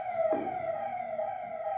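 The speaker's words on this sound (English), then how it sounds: "So all of us can hear the ambulance." An ambulance siren passing outside sounds as a steady sustained wail, moderately loud and alone, holding a fairly constant pitch over a couple of seconds.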